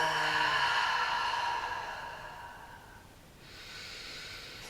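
Breath during a cleansing yoga practice, a steady airy exhale that is loud at first and fades, then a softer hiss of breath returns, close and with no talking.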